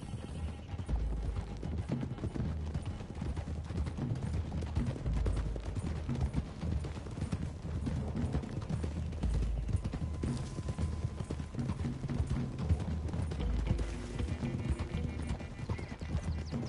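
Horses gallop in Red Dead Redemption 2, a steady, dense clip-clop of hooves with occasional neighs and creaking tack, loud and continuous throughout.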